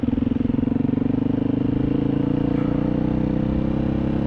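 A trail motorcycle on a Colorado mountain trail in spring chugs along at a steady throttle, its engine pulsing with a rhythmic, close, loud thump and no talking over it.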